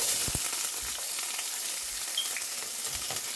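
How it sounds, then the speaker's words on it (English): Celery, onion and peppers sizzling and frying steadily in hot oil, a continuous crackling hiss with occasional soft stirring knocks, close up and alone. "we're going to start frying our celery, onion, and peppers till they come to a little brown"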